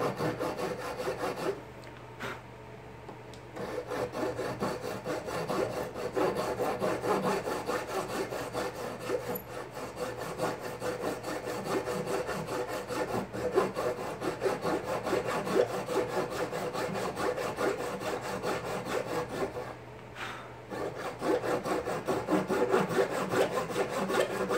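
A dull keyhole saw (rat-tail saw) cutting through wood in steady, continuous rasping strokes, close and moderately loud, with brief pauses early on and near the end.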